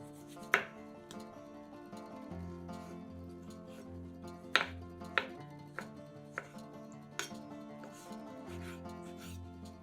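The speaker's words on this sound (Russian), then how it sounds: "2-3 помидора нарезаем сначала пластинками," Knife chopping two or three tomatoes on a board, first into slices and then into cubes, for a rolled pastry appetizer; a run of crisp, irregular taps and thuds, close and fairly quiet, with a few sharper cuts standing out.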